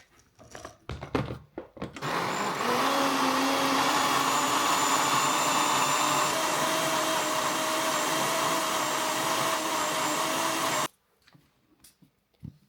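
Blender whirring through protein pancake batter, a loud steady motor whine that starts abruptly after a few clicks and handling noises, runs continuously for about nine seconds, then cuts off sharply.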